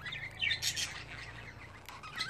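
Budgerigars kept as pets chirp and twitter in quick, high warbling bursts, moderately close, with a few sharper calls among the chatter and no talking.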